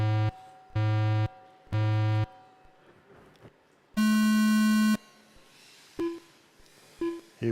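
Three identical long electronic start beeps for an indoor tiny whoop drone race at a UK championship qualifying round, then a final higher-pitched beep, each loud and evenly spaced, with quiet room noise between.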